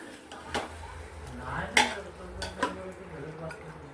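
Mutton coated with turmeric, ginger-garlic paste and salt is mixed in a pot, with a few sharp metallic clinks and scrapes of a utensil against the vessel over a low background hum.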